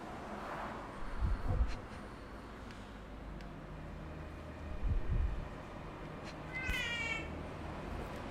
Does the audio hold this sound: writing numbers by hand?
no